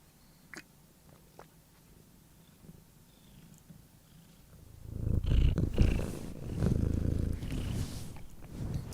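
A cat purrs close up, a low rumbling that swells louder partway through and continues steadily, with a few faint taps before it.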